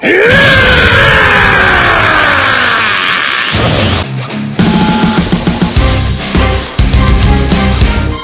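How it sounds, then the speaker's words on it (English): Goku from Dragon Ball screaming while transforming in a fan animation, a long, loud, strained yell rising in pitch over a roaring power-up rumble, followed by crackling bursts and impacts. "Goku went and he screamed"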